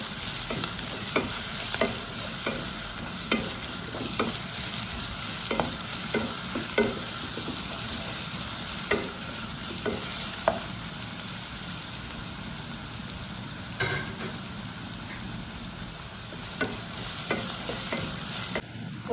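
Chopped onions sautéing in a pan for wheat vermicelli upma, a continuous close sizzle broken by regular scraping stirs and light clicks, steady and fairly loud without speech.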